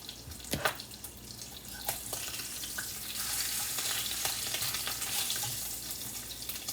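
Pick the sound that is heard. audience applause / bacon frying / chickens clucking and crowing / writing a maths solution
bacon frying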